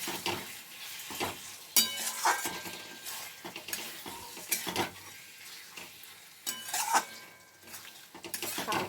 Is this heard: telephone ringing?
no